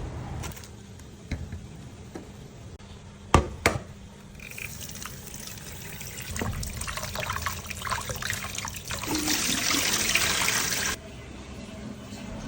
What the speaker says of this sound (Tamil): ஸ்வீட் பொட்டேட்டோஸை எடுத்துக்கிட்டு அதை நல்லா தண்ணியில் வாஷ் பண்ணி